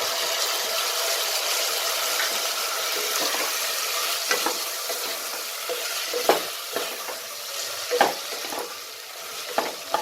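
Potatoes fry with ginger and green chili paste over a medium flame, a continuous close sizzle broken by several sharp stirring scrapes and clacks of a spoon against the pan, with no voices.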